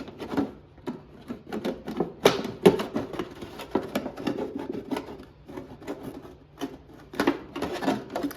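Scissors or a blade cutting around the edge of a plastic jug prepared for winter seed sowing, a run of sharp snips and crinkly plastic crackles in an uneven rhythm, close and fairly quiet, with no talking.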